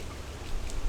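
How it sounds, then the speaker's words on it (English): Steady rain falling, a dense hiss of drops pattering on surfaces and windows, continuous and fairly loud throughout the short stretch. "I like the rain"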